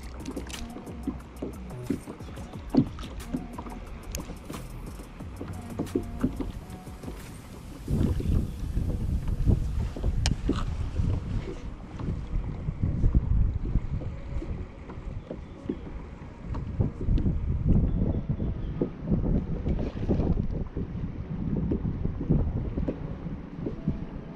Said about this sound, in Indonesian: Tapi angin kuat sangat.